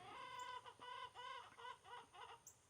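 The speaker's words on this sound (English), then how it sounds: "the chickens are barking, ignore them." Several chickens cluck in a steady series of short, throaty calls, fairly quiet and a little distant, with no talking.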